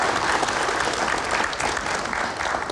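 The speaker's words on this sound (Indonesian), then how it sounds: "Oke, baik, kita berikan tepuk tangan dulu." Audience applause at a televised political talk event, a dense, steady wash of many hands clapping at once, fairly loud and continuous from start to finish with no voices on top.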